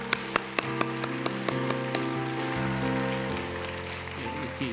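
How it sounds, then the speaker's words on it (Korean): Applause from a church congregation welcoming four newly introduced elders at an ordination service, starting with a few sharp separate claps that build into steady, moderate clapping over sustained organ or keyboard chords. "힘찬 박수로 격려해 주시기 바랍니다."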